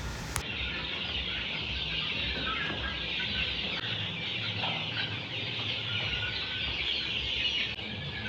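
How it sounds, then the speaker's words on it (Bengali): Fayoumi chickens clucking in a poultry shed, many birds murmuring and clucking together in a steady, moderately close chorus, with no talk. "এগুলো হচ্ছে আমাদের ফার্মি মুরগিগুলো"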